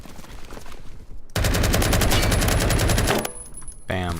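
Sustained rapid automatic fire from a SCAR-L assault rifle in the Roblox shooter Phantom Forces rattles loudly for a couple of seconds after a short lead-in, then stops and gives way to a brief different burst.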